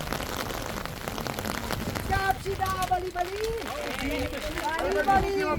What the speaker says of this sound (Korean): 빗방울도 가늘어져 이동하는데 크게 불편하지 않았습니다.